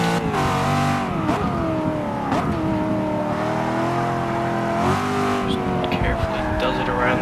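A 1,000-horsepower rear-wheel-drive race car in Forza Motorsport 6, on a Le Mans run, revs hard with wheel spin, its engine note rising and falling repeatedly while someone talks over it.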